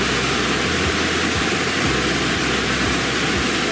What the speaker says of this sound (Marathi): किती जोरात पाणी पडतं तुम्ही बघू शकता